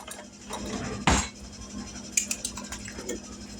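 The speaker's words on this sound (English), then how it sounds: "let's get everything mixed in to this bowl that we got to put in here" Casserole ingredients, including cream of mushroom soup for a tuna noodle casserole, being mixed in a bowl with a flimsy spatula, giving a loud scrape near the start followed by softer clinks and scratches against the bowl.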